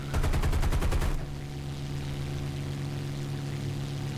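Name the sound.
aircraft machine gun bursts in video game War Thunder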